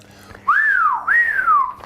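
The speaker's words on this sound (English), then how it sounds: "I'm trying to whistle here." A person whistles a short two-part tune, each note sliding up and then down, clear and close against faint background noise.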